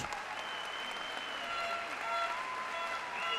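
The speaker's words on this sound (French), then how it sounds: "Vous avez raison d'applaudir bien fort ces garçons." Audience at a kickboxing event (full-contact with low kicks) applauding the fighters after a knockout win, sustained dense clapping filling the hall at steady loudness throughout.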